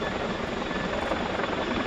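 A Boeing Chinook CH-47 HC2 twin-rotor helicopter of the Royal Air Force flying a display at the RIAT 2017 air show, a loud continuous rotor and turbine roar with steady thumping texture.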